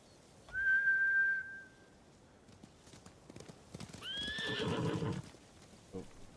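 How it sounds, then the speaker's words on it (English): Horses in the Ghost of Tsushima video game whinny: one clear shrill neigh comes early and a second, louder whinny follows with hoof clip-clop. Between them are quiet game ambience and scattered soft thuds. "Bastards scared off the horses."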